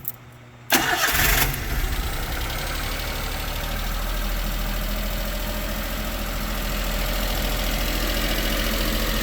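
A cold Daihatsu Atrai engine cranks briefly, then catches and settles into a loud, steady idle heard up close, with no voices.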